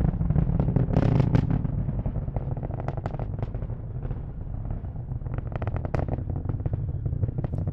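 SpaceX Falcon 9 rocket about a minute into a nominal Starlink launch from Cape Canaveral, a loud, dense crackling roar with rapid popping bursts, sustained throughout with no voices.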